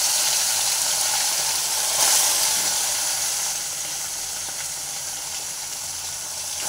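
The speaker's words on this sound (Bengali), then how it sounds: "বন্ধুরা, এখানে ভাজা হচ্ছে মোরলা মাছ" Morola fish rubbed with salt and turmeric fry in hot oil with a loud, continuous hissing sizzle that settles a little softer midway, no voices.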